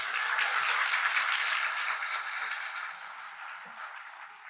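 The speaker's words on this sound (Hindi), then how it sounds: "तो अपने लिए एक बार हम सब मिलके जोर से तालियां बजाते हैं।" A crowd at a company Diwali celebration applauds together, dense clapping that starts strong and slowly thins out over a few seconds.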